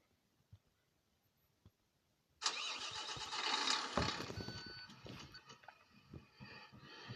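A bus engine in the Proton Bus Simulator video game cranks and catches after a quiet stretch, then settles into a steady, loud idle that runs to the end.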